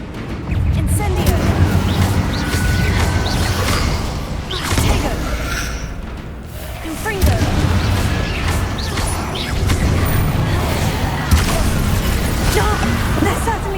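Confringo fire spells blast through a battle in Hogwarts Legacy, a steady barrage of loud booms, crashes and whooshes layered over dense rumbling game noise with no pause.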